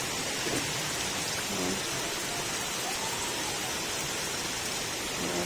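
Steady, dense rain falls on a flooded street, a loud continuous hiss throughout with faint voices briefly audible in the background.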